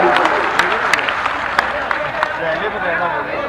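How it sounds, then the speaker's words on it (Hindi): Applause from a large crowd at a political rally in Dimani, a dense rattle of many hands clapping steadily over a murmur of voices. "एक बार तालियां बजाएं जोरदार"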